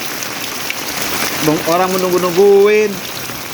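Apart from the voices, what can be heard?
heavy rain pouring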